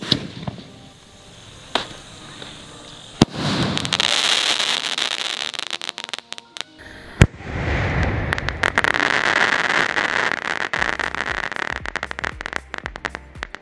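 Diwali sky-shot fireworks launching and bursting outdoors at night, with repeated loud cracks and crackling explosions, sharp pops and dense hissing bursts coming in clusters, some close and loud, others fading off.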